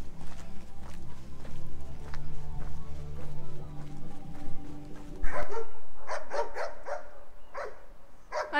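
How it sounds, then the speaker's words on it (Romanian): Dogs barking at the edge of a Chilean town in Puerto Montt, with repeated sharp barks of moderate loudness, some overlapping footsteps and low rumbling, then a clearer run of barking in quieter surroundings. "Ne latră câinii."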